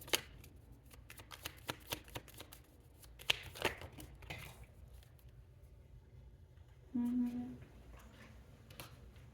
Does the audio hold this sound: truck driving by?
no